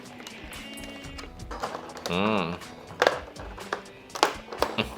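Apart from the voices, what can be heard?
unpacking a Thermaltake Cronos headset from its box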